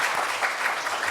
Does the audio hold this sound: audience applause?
yes